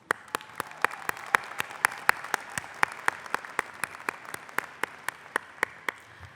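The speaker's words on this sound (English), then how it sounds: "Give yourselves a round of applause." Doctoral graduates at Drexel University's 2016 hooding ceremony applaud in a steady, evenly paced patter of claps that carries on throughout.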